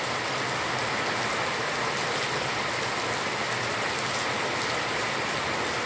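Steady heavy rain pours down in a dense, continuous hiss of drops hitting surfaces on a hot day, loud and close with no voices.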